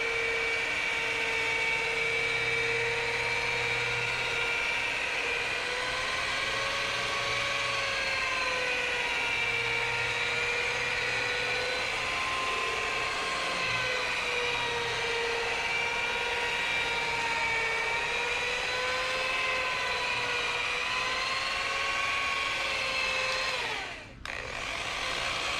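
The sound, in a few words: rotary polisher running during car paint correction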